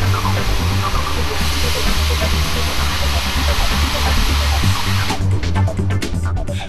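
Air rotary drill flushes rock cuttings out of the hole with compressed air alone, a loud continuous roaring hiss with a low rumble underneath, ending in a burst of rapid sputtering pulses.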